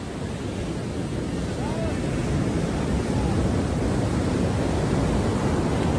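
Ocean surf rolls steadily at Baina Beach near Vasco in Goa, a continuous broadband roar of waves mixed with heavy wind buffeting against the microphone throughout.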